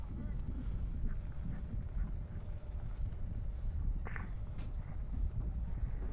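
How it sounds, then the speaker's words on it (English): Wind gusting across a high school baseball field, a steady low roaring buffet against the microphone, loud and continuous, with faint distant sounds beneath. "See that wind is picked back up"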